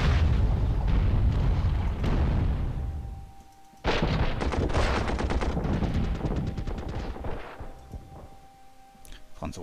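French troops firing in the World War I strategy game Commander: The Great War, heavy rolling volleys of rifle and machine-gun fire with booming artillery, pausing briefly before a second loud barrage that slowly thins out.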